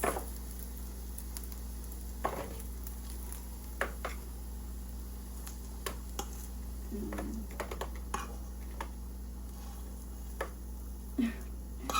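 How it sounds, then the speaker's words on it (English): Food pieces fry in hot oil with a steady low sizzle, broken by scattered sharp pops and clicks and a few louder spatters, close and fairly quiet, with no voices. "Try not to like get that oil popping."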